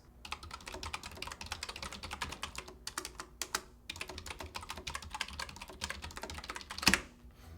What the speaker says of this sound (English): I'm gonna enter a typing race. You'll hear a little bit of it